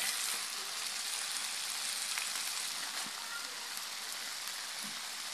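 Kangkong, or water spinach, stir-frying in a pan with a little sugar, giving a steady, dense sizzle and crackle that holds evenly throughout at a moderate, close level.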